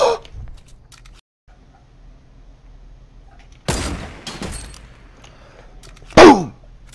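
A sniper rifle fires in a first-person shooter video game: a sharp loud crack around the middle, then a second booming shot near the end, over quiet background ambience.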